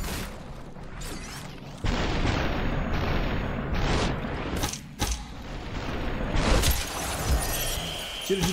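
Gunfire in the Superhot video game, loud sharp shots and crashing bursts, several abrupt hits in close succession over a continuous noisy game background.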